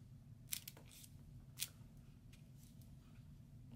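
Scissors snip a small paper strip for a handmade picket fence card: two crisp, quiet cuts about a second apart, with a few softer rustles over a low steady background hum.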